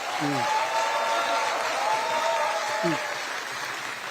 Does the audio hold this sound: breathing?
no